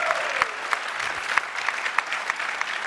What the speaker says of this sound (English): All right, a big round of applause.